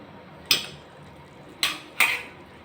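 Three sharp metallic clanks of a pressure cooker lid being opened, spaced apart in a quiet kitchen with no talking.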